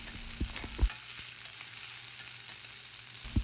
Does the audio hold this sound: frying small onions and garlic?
yes